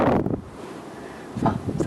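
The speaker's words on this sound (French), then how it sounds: "c'est la neige qui est soufflée par le vent" Strong gusty wind sweeps across a snowy Haute-Savoie mountainside, blowing the snow about, with a loud buffeting roar at the start that eases off and then surges back near the end.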